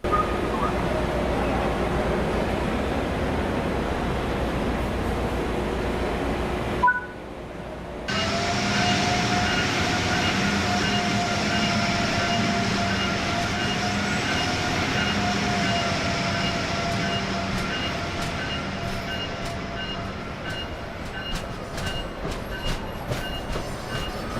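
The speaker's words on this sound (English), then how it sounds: "Alright, doors closing." Amtrak Acela passenger train running steadily, with a brief drop as the doors close followed by the continuous rumble and hiss of the moving train, heard from inside the car.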